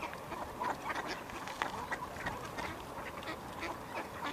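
Mallard ducks quack repeatedly amid a dense wash of outdoor background noise, the calls fairly distant and scattered throughout.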